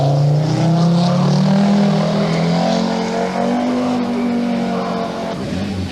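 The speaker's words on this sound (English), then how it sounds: "Mikkola on 2 warms his tyres in readiness for the ensuing stage" A rally car engine revs loudly while its tyres are warmed before a stage at the 1982 Rallye de Portugal, a sustained droning note that rises and falls, close and dominant.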